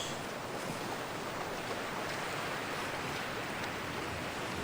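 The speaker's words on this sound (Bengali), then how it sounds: "বাট ঝড়, উত্তাল সমুদ্র।" A stormy sea churns under strong wind, a constant faint wash of surf and gusty roar with no distinct breaks.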